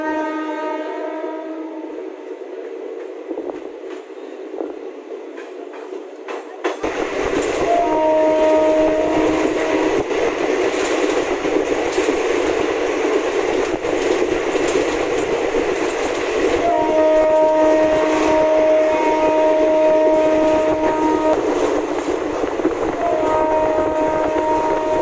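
A local passenger train running between Raxaul and Sitamarhi roars loudly and continuously, with rumbling wheels and a sustained horn blaring in several long blasts, recorded close by.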